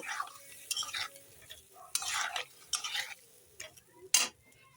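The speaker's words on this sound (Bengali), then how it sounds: "এখন আলু আর মশলাটা ভালো করে কষিয়ে নেব" Potatoes and spices for an egg curry are fried and stirred in a pan in intermittent bursts: scraping spatula strokes with light sizzling between, close and fairly quiet, no voices.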